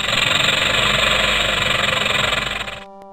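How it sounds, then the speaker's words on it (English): A rattlesnake rattle from an MS-DOS children's zoo game, a continuous dense buzzing hiss at close range that runs steadily and then cuts off abruptly near the end. "A rattlesnake goes."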